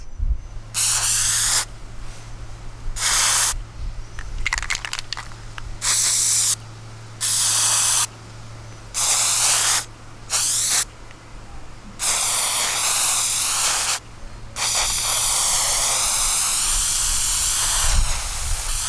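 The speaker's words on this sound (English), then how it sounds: "sounds just like a can of spray paint" Repeated hissing bursts of an aerosol spray chalk can, some short and some held for seconds, separated by quiet gaps, close and loud.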